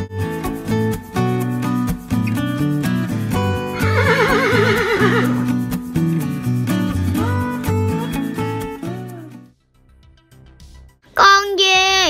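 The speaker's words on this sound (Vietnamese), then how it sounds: "Horse." A horse whinnies over bright children's background music, its quavering neigh rising clearly above the tune for a second or two near the middle before the music stops and another short animal-like cry closes the passage.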